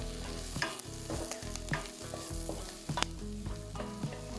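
Chopped onion sautéing in a pan for Tamil-style pineapple curry, with a steady close sizzle and repeated scraping, clattering stirs across the whole stretch; no one speaks.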